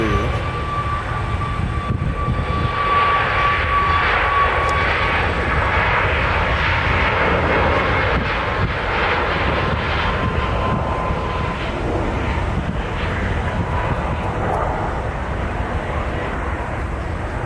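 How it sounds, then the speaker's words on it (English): Airliner jet engines roar steadily throughout a takeoff at Nashville International Airport, a loud, continuous broadband rumble with a faint whine, heard from a distance across the field. "That'll be our next takeoff on 2 Center."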